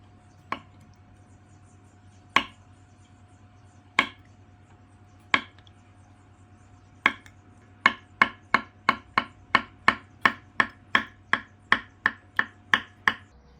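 A knife slices firm agar jelly on a cutting board: a few sparse, crisp cuts at first, then a quick, steady run of evenly spaced chops, close and clear.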